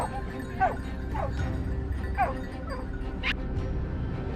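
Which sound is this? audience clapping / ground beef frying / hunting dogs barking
hunting dogs barking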